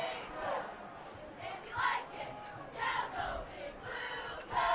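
Quartz Hill cheerleaders chant at a high school football game against Palmdale. Rhythmic group calls rise and fall in a repeating pattern, faint and distant over crowd murmur.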